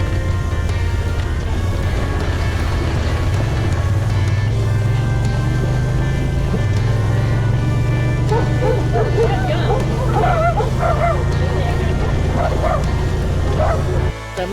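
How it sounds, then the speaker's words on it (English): Dogs bark and yip excitedly while chasing an ATV on a wilderness trail, the barks bunching into a flurry in the second half over the steady drone of the ATV engine. "Then the dogs come chasing us."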